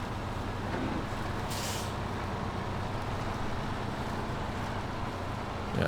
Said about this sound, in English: Yeah, these Pacific trucks though